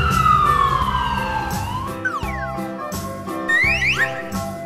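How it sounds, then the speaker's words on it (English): A toy police car's electronic siren wails loud and close in rising, falling sweeps over a steady patterned tone, running throughout with a few quick chirping glides. "Police car."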